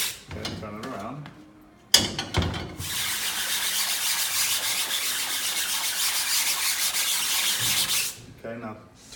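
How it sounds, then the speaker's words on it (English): A red brush scrubs emulsion remover in circles across a screen-printing screen, a steady, dense rasping swish that holds for several seconds, with brief speech and handling noises before and after. "grab the red one, the red brush, and just scrub it and go around in circles."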